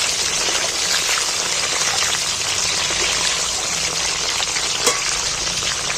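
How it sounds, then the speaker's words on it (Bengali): Green chillies and chopped tomato fry in hot oil for a chicken curry, with a steady, close, dense sizzle and crackle that runs without a break while they are stirred. No one speaks. "আমি কাঁচা লঙ্কা দুটো তুলে দিচ্ছি আর টমেটোটা দিয়ে দিচ্ছি তেলটার মধ্যে একটু নাড়াচাড়া করে নিচ্ছি"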